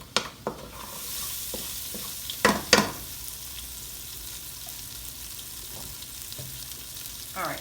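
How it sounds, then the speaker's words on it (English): Tomato paste frying in a pot for a Haitian-style stewed cow-foot, a steady sizzle with a few sharp scrapes and clinks of a utensil stirring against the pot early on, then continuous quieter frying. "we're gonna cook the tomato paste just to remove the rawness, the taste of the raw tomato paste out"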